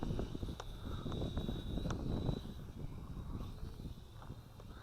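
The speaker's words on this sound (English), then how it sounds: "Can it fight the 1 key return? Fight the wind?" Steady wind rushes and buffets across a microphone outdoors while a large JJRC H25G FPV drone is flown in a gusty field, a continuous rough roar with scattered thumps and crackles.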